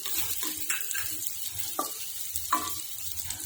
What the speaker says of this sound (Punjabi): ਹੁਣ ਆਪਾਂ ਇਹਦੇ ਵਿੱਚ ਹਰੀ ਮਿਰਚ ਪਾ ਦਵਾਂਗੇ